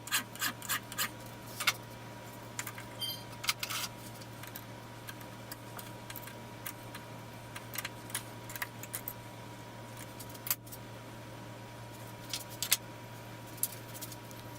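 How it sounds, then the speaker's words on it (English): A hand file cuts two flats on a small metal crank pin for a treadle grinder, using the nut on its back as a guide, giving a string of short dry rasping strokes in an irregular rhythm. The strokes are close and fairly faint, with no talk. "file 2 flats on it."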